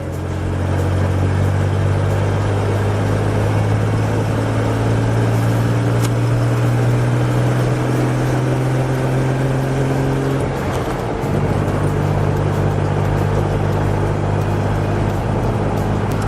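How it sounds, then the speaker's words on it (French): A truck's engine drones steadily and loudly as it accelerates onto the motorway, with a low tone rising in pitch, a brief dip near the end like a gear change, then a continued hum with road noise from inside the cab. "Et c'est parti, accélération pour l'autoroute."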